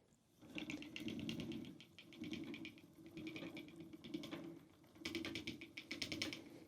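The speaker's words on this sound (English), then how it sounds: "And then I put it onto my spinning wheel." An antique spinning wheel spins carded wool, its wooden mechanism giving a steady rhythmic whirring and clicking that surges in repeated waves, fairly close and with no voices.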